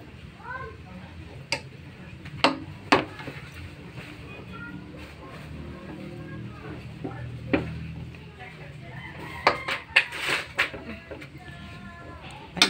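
A gas stove igniter clicks as the stove is turned on, making scattered sharp ticks, some in quick clusters, while a person talks throughout.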